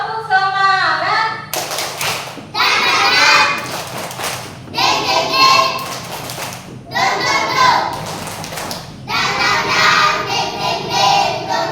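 Schoolchildren in a classroom perform a rhythmic tepuk semangat clapping chant, loud bursts of clapping and chanted voices repeating in several phrases, led by a teacher's voice.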